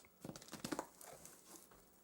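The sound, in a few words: cutting packing tape on a box with a Case XX pocket knife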